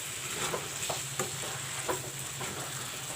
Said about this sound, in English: you can see the chicken frying with the masala,